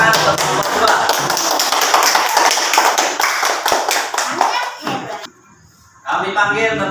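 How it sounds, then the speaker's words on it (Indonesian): Schoolchildren in an elementary classroom clap together for a classmate's group presentation, a burst of rapid, loud hand claps that thins and breaks off into a brief silence before a voice and more sound resume. "tepuk tangan untuk nomor 2"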